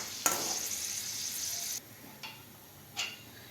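Potatoes dropped into hot oil in a pan for kanda poha burst into a loud, bright sizzle that cuts off suddenly, followed by quieter hissing and two brief stirring scrapes.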